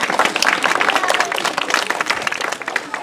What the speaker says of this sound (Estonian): No plaksutame ta lavale.